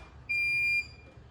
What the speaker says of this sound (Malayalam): ഇത് 3 തവണ ഒരു അലാറം അടിച്ചതിന് ശേഷം ഇത് ഓണാവും